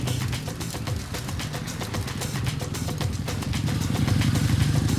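A motorcycle rides through the streets of Buenos Aires, its mid-pitched engine running steadily with a clattering putter and slowly growing louder, with no talk over it.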